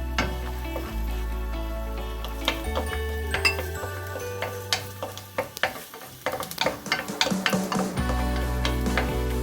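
Garlic fries in a pan for a squash and prawn coconut stew, a steady sizzle with a spatula stirring and clinking against the pan, close and without speech.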